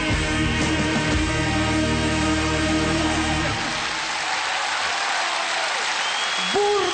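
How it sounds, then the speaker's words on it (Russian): A large crowd gives prolonged, stormy applause that swells into an ovation, a dense roar of clapping that is loud at first and then thins toward the end. "Бурные продолжительные аплодисменты, перерастающие в овации."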